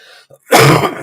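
A single sudden sneeze bursts out loud and close after a short quiet gap, trailing off over about half a second.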